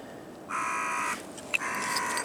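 A crow by the River Thames gives two harsh, drawn-out caws separated by a short pause, heard alone at moderate distance over faint outdoor ambience.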